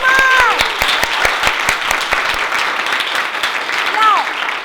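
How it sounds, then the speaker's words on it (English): Applause from an audience at a university keynote event, steady dense clapping with distinct sharp claps near the front and a couple of cheering voices rising over it. "Let's give Mark a big round of applause."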